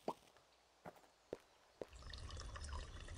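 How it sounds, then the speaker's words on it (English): Plants being watered in a farming horror game, a few spaced drips or plops followed by a steady pouring splash of water, quiet and with no voices. "But I have to water my plants."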